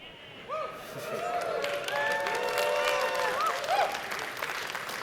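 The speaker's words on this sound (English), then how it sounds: "I appreciate you all clapping that." An audience at a panel discussion breaks into applause with scattered cheers and whistles, a dense steady clapping that builds over a few seconds amid crowd voices.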